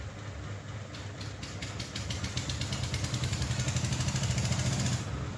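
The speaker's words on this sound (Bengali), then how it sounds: "আমাদের মেশিন স্টার্ট হয়েছে" Machine engine running at a concrete roof casting site, a steady, rumbling idle with a fast regular chug that grows slightly louder and fuller toward the end.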